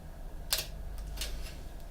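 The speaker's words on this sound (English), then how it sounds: "I just use the tips of my scissors just to go around the easy ones first" Plastic parts of a Meng 1/35 Terminator model kit snipped off the sprue with the tips of scissors, giving three sharp, close clicks spaced apart over a quiet background.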